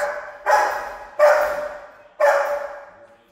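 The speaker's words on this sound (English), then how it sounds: "while Brandy's barking" A dog barks three times at roughly one-second intervals, each bark loud and close with a short ringing tail, in a quiet indoor training setting.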